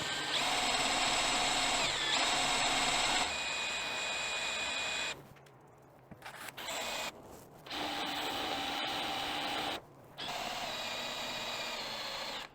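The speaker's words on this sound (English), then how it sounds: "at some point I should drill all the way through the bolt" A power drill grinds steadily into a stripped metal bolt on a Dana 44 axle hub in long bursts, pausing twice briefly before starting again, loud and close.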